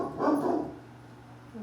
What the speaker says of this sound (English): Let me see what he's barking at time.